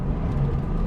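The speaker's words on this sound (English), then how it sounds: "And then brake and heel and toe in second." Onboard engine of a Ford Mustang Bullitt under braking with a heel-and-toe downshift into second gear, a steady close, low-pitched rumble with a slight blip in the middle of a very short stretch.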